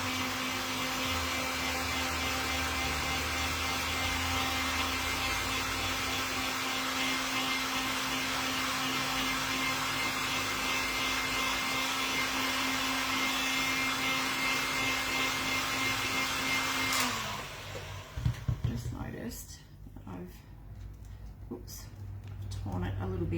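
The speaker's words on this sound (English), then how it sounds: "I'm just going to hit this with the heat gun just to dry these off a bit" A heat gun blows steadily and loudly over decoupaged vintage witch hats, a continuous whirring rush with a fixed hum, then cuts off abruptly near the end, leaving faint handling noises.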